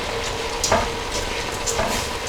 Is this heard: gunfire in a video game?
no